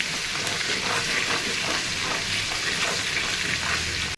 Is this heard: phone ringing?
no